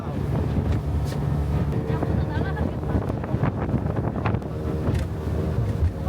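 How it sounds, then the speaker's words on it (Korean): A speedboat runs at high speed on a hopping tour off Nha Trang, its motor droning beneath strong wind buffeting the microphone and water slapping the hull, loud and continuous throughout. "이렇게 생긴 스피드보트를 타고 들어가는 거고요."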